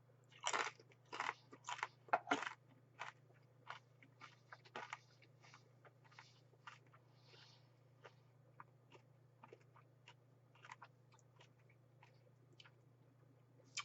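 Crisp, close crunching bites and chewing of Hatch cheddar popcorn, a burst of loud crunches at first, then sparser, fainter chews trailing off over a low steady background hum, no talking.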